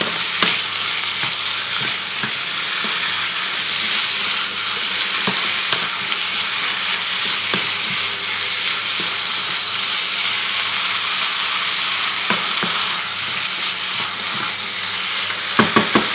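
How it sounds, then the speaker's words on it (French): Mushrooms dropped into a hot pan sizzle in a dense, continuous hiss, with occasional soft clicks of stirring and a few sharper knocks near the end, close by and without talk. "On ajoute nos champignons."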